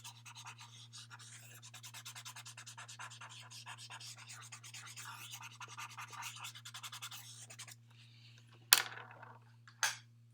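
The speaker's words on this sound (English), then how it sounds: "I'm going to take an eraser and just kind of erase some of that" An eraser rubs out pencil shading on paper in a fast, even run of soft scratchy strokes for several seconds, faint and close. Two sharper brushing sweeps follow.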